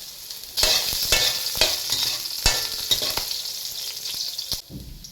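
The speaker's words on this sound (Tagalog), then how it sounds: "Gigisa na. Bawang." Garlic sautéing in a pan for Batangas-style gotong, with a steady close sizzle broken by scraping stirs.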